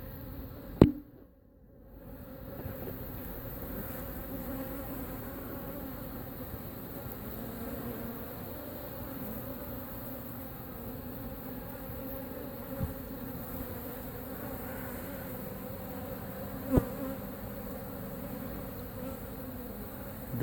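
Honeybees drone steadily around a mobile home hive during a removal in Lakeland, Florida, a low continuous buzz of a few stragglers throughout with occasional brief clicks.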